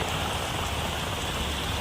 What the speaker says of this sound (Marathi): आज डोंबिवलीमध्ये मुसळधार पाऊस चालू झालेला आहे